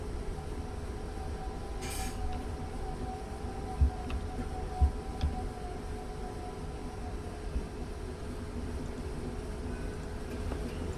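A train in Train Sim World 2019, a Network Southeast service to London Victoria, rumbles steadily along the tracks, with a low continuous drone, occasional wheel clicks and a brief hiss, no voices.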